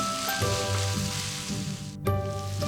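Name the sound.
stir-frying kelp, cauliflower and shredded chicken with seasonings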